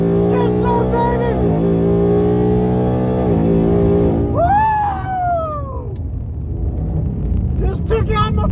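Loud revving engine of a 2019 Ford Mustang GT in a street race against a Dodge Challenger Hellcat, a sustained roar with rising and falling pitch as gears change, with excited shouting over the top.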